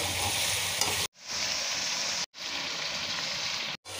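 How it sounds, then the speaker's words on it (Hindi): Potato and eggplant curry fries in oil in a pan, a loud, steady, dense sizzle that cuts out briefly twice as the pan is stirred, then resumes at full strength. "हम इसको अच्छी तरह से अब फ्राई कर लेंगे।"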